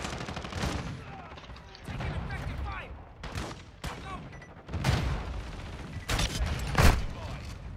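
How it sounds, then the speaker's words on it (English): Shotgun blasts in a Call of Duty match, several sharp loud bursts spaced irregularly over a busy game soundscape, with players talking between shots. "this shotgun is the truth"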